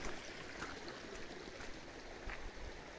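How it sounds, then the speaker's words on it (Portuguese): Water keeps running after a landslide at Alto Ferrabraz in Sapiranga, a faint, steady rushing and trickling heard from a distance with no talk over it. "E a água continua correndo, é muita água."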